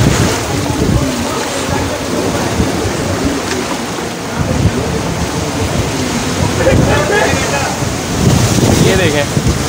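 Sea waves wash ashore at Gadani Beach in Balochistan, a continuous rushing surf buried under heavy wind buffeting on the microphone.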